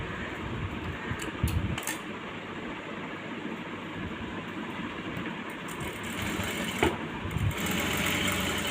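A sewing machine stitches a blouse, giving a steady, fast mechanical whir that runs throughout at moderate volume, with a few faint clicks and no talking.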